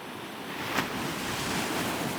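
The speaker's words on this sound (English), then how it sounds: "Some big swells coming in now." Sea swells wash onto a beach on Scotland's east coast, a steady close roar of surf with wind noise across the microphone and no voices.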